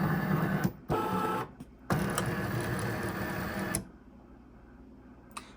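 A Cricut Maker 3 cutting machine powers on for the first time, whirring and buzzing in several mechanical bursts separated by short pauses before settling into a faint hum, with a small click near the end.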